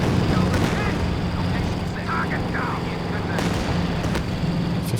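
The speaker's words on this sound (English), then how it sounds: "Incendiary artillery out the back combining with the Katyushas." Incendiary artillery and Katyusha rockets pound the field in Company of Heroes 2, a dense, continuous roar of blasts and rumble with a couple of sharper bursts near the end.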